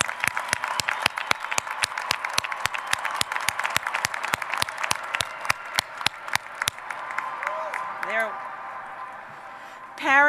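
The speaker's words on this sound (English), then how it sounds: "please join me in giving these students another round of applause" At a 2012 high school graduation ceremony, a large audience breaks into loud, dense applause that dies down over several seconds, leaving a few scattered claps and faint crowd murmur.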